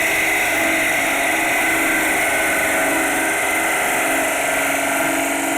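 Gouge cutting a maple chalice spinning on a wood lathe, a steady loud whirring hiss with constant motor hum, continuous and unbroken without talk.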